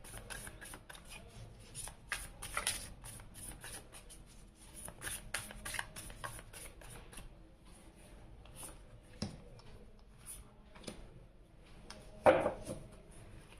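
Tarot cards being shuffled and drawn during a reading: soft, close rustling and papery flicks in a steady run, with a sharper snap of a card near the end.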